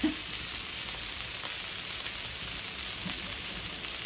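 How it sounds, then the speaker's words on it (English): Steak sizzling in a hot pan, a steady loud hiss of frying with faint crackles, continuous and close, with no talking. "Put down my steak. The best sound in the world, isn't it?"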